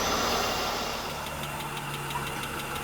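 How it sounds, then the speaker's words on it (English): A 1992 Mercedes W124 300E with an M103 engine idles close by, a faint, rapid, regular lifter ticking riding over its steady hum. "now I can hear the lifter now. Oh, yeah, it comes and goes"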